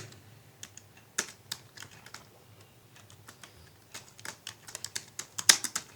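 Code being typed on a computer keyboard, a quiet, uneven run of light key clicks with short pauses and a faster burst toward the end, no voice.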